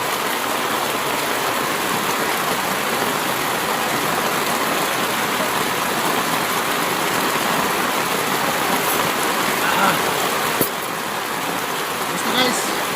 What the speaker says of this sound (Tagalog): Yun guys, lumakas na lalo yung ulan.